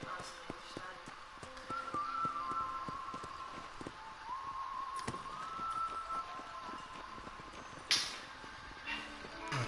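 Horse hooves in the video game Red Dead Redemption, a rhythmic clip-clop trotting steadily and close, with a brief sharp noise near the end.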